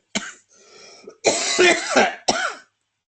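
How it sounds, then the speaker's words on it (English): Several harsh coughs and throat-clearing bursts in quick succession, close and fairly loud, with a brief pause between the first and the later ones. "Sorry about my coughing fit."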